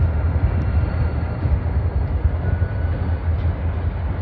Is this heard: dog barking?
no